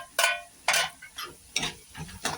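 Coconut, ginger and garlic paste being sautéed with onion in a pan: several distinct scraping stir strokes in an uneven rhythm over a soft background sizzle, close and fairly loud.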